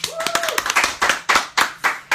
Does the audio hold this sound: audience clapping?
yes